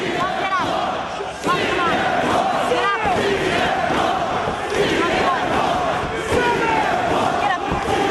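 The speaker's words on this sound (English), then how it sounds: "The crowd trying to rally." Wrestling crowd in an arena at a CM Punk versus Jimmy Rave bout, loud sustained cheering and rallying chants with rising yells and sharp slams, a commentator talking over the din throughout.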